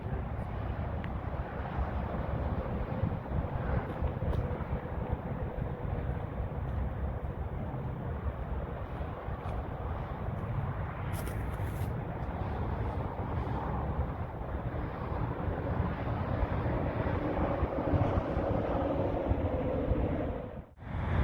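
Continuous low rumbling wind buffeting the microphone outdoors at Winrock Center Mall, Albuquerque, on a cool overcast January day, steady and fairly loud throughout, with faint distant traffic beneath.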